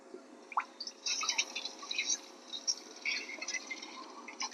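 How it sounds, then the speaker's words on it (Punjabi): Milk poured into hot ghee in a pan while making milk peanut barfi, bringing quick crackling sizzles and bubbly spatter over a low steady hum, close and moderately loud, without speech. "ਹੁਣ ਆਪਾਂ ਦੁੱਧ ਪਾਵਾਂਗੇ ਘਿਓ ਗਰਮ ਹੋ ਗਿਆ ਦੁੱਧ ਪਾਵਾਂਗੇ"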